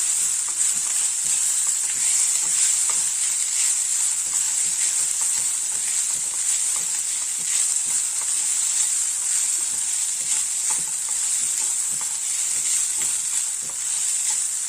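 Coconut mixed rice being stirred in a pan over low heat gives a continuous bright sizzling hiss with faint scraping strokes, alone and steady throughout.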